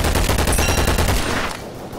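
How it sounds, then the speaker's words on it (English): Rapid bursts of automatic gunfire in the shooter game Double Action Boogaloo, a dense rattling volley that stops near the end and leaves a quieter tail. "I'm being shot at!"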